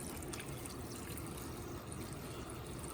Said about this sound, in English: we're gonna fill this pot until the potatoes are covered